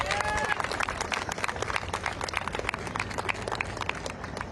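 Crowd applause for a speaker at an outdoor anti-Trump student protest in Washington, D.C.; continuous, loud, dense clapping with crowd noise mixed in and a brief voice early on.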